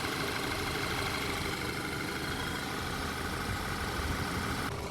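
A 2.0 TFSI quattro Audi Q3 with an automatic gearbox idles smoothly and evenly, a steady, close engine hum with no stumbles for the whole stretch.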